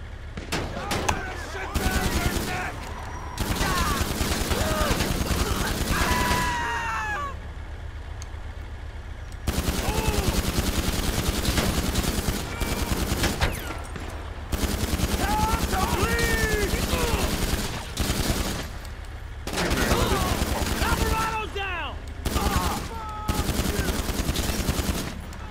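Repeated bursts of automatic gunfire in GTA 5 Online outside a nightclub, loud and close with short pauses between volleys, while people talk over it.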